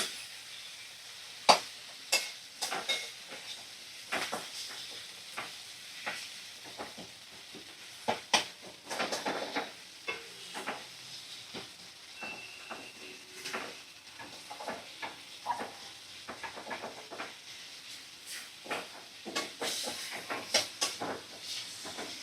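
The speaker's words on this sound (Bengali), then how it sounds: "কুচনো টমেটো দিয়ে 2 মিনিট ভালো করে আমি নাড়াচাড়া করে নেব।" Chopped tomato fries in a pan while being stirred, with a soft continuous sizzle and hiss broken by many irregular scraping and clinking strokes of the spoon over about twenty seconds.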